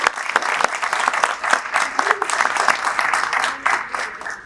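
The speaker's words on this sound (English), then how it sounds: "So I hope you will please join us in a round of applause." An audience at a homelessness-initiative launch event gives a round of applause, dense and steady clapping from many hands that fades near the end.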